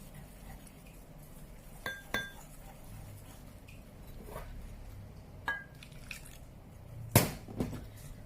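A utensil stirs flour and salt-water batter for sosis solo in a bowl, giving a few sharp clinks against the bowl over a soft scraping background, with no talking.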